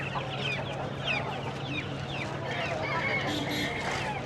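Chickens cluck and squawk among ducks, geese, pigeons and quail at a riverside poultry market, several birds calling in short bursts over a dense crowd murmur and a low steady hum.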